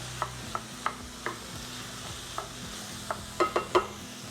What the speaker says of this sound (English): We're just gonna let that saute a bit.